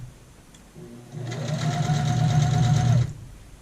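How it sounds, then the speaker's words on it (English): A sewing machine stitches a dart on a skirt in one steady run of about two seconds, its whirring motor rising and then stopping abruptly, close and clear. "and then we're going to sew and we're going to aim for that tip"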